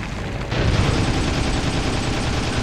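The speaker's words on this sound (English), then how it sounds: "Getting hit by a tank." A tank shell explosion hits the player in the WWII shooter Heroes & Generals, a loud sustained roar of blast and gunfire that swells after a brief start and stays dense to the end, with no voices.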